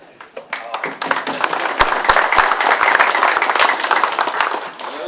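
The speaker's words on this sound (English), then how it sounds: "she deserves a bigger applause than the candidate does" An audience at a Henderson County GOP Men's Club gathering breaks into applause for a candidate's wife, Lisa, with scattered claps swelling into full, sustained clapping from a close crowd.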